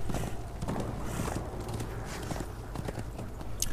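Horse hooves in the video game Darksiders II clip-clop in a quick, fairly even rhythm at moderate distance over a low ambient bed, with no talking.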